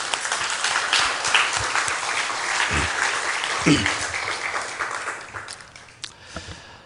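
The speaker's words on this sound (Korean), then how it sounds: "그들에게 뜨거운 감사의 박수 한번 드리겠습니다" Church congregation applauding the elders, deaconesses and members at a 38th anniversary Sunday service, a broad sustained wash of clapping that gradually thins and fades toward the end.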